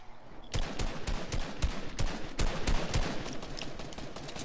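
Rapid bursts of video game gunfire crackle steadily from about half a second in, dense repeated shots forming an unbroken volley, loud and close with no talking over them.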